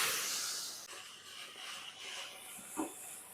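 Lentils tipped into hot oil with browned onion, garlic and cumin for a mango dal give a steady, fairly faint hiss that tapers off over a few seconds, with no talking.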